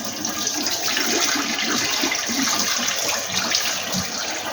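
Tap water running over red lentils being rinsed in a sink, a steady close splashing and trickling stream that continues throughout without any talking.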